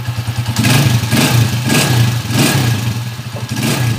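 Motorcycle engine revving with a newly fitted exhaust, steady harmonic drone rising in repeated throttle blips, close and loud with no talking.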